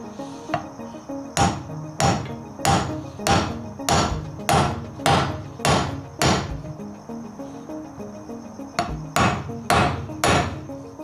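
Repeated sharp metal hammer blows on a slide hammer piece, driving an engine main seal into a timing cover, steady and close, in a fairly even rhythm with a brief pause before a final few strikes.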